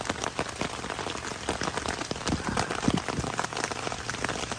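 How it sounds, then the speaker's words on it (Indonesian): Sudden rain pelts down in a forest at a solo campsite, a dense, close patter of drops striking surfaces with no one speaking. "Tiba-tiba hujan kayak gini."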